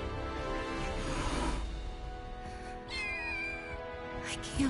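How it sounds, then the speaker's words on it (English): Kittens meowing in the Final Fantasy VII Rebirth video game, a loud continuous stretch of high plaintive mewing and caterwauling with several voices overlapping, close and without talk. "Kittens?"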